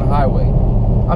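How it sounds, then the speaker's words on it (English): Low, steady exhaust rumble from a 2017 Dodge Challenger 392 Hemi Scat Pack Shaker cruising at about 65 mph on the highway, heard from inside the car under a voice during a brief moment. "yeah, you can hear the exhaust"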